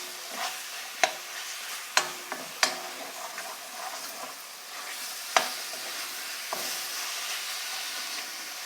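Chopped tomatoes sizzle in hot oil in a pan for goat head curry, a steady close frying hiss broken by sharp scrapes and clinks as a spoon stirs, with no talking.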